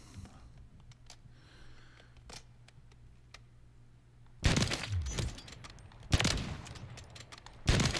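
MCPR-300 sniper rifle firing in a video game, with three loud separate shots a couple of seconds apart after a quiet stretch of faint handling clicks.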